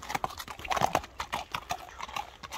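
A horse named Lezba walks on hard ground, its hooves clip-clopping in a steady, close, distinct rhythm.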